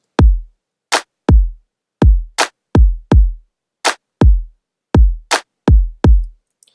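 Punchy electronic kick drums with long booming low ends alternate with sharp, bright claps in a steady repeating pattern, loud and isolated with no other sounds.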